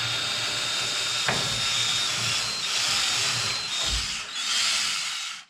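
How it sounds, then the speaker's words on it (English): A cordless drill works at broken beam bolts on a 1963 VW Beetle, giving a steady whirring grind with a few sharp knocks and a sudden stop at the end. "So yeah, time for the long drill session."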